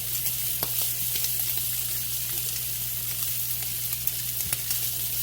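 Garlic-butter shrimp sizzling and frying steadily in a hot pan, a continuous close crackle with occasional louder pops and a low steady hum underneath, no voices.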